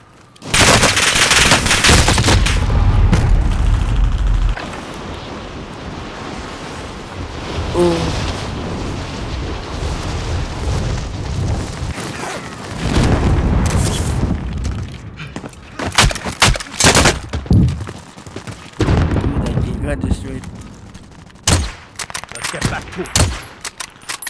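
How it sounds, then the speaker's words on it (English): Gunfire from the video game Call of Duty Black Ops 2 crackles in dense, loud automatic bursts and explosive blasts. Quieter gaps fall between volleys, and a voice speaks in places. "Oh, got him with that long shot."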